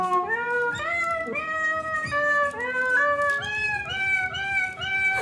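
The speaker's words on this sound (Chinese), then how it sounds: "下一个鼓，最不实用的猫咪叫。" An electronic drum pad plays a sampled cat meow several times in quick succession, each clear tonal meow sliding in pitch, close and loud with no talking.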